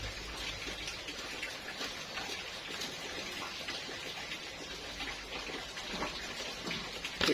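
Light drizzling rain pattering continuously, soft and fairly faint, with scattered drips and a steady wet hiss throughout.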